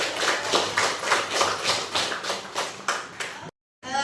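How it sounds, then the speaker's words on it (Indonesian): Rhythmic group hand-clapping from children in a classroom, steady patterned claps for about three and a half seconds, then a sudden cut to silence before faint sound resumes. "Tepuk tangan untuk kita."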